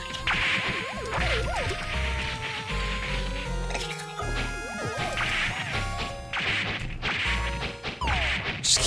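Smashing melee attacks in the action game Fight Knight land as a dense run of loud crashing hits and whacks over busy game music.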